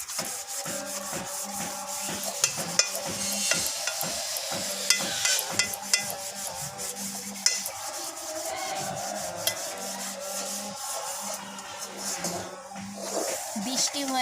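Food fries in a kadai (wok) on a gas stove, giving a continuous rough sizzling and scraping rasp with uneven bursts throughout, and a voice murmurs faintly underneath.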